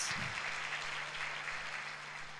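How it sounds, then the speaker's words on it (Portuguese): A church congregation applauds during a Sunday worship service: a steady, dense wash of many hands clapping, sustained at even loudness throughout with no talk over it. "Esse aplauso é para o Senhor Jesus."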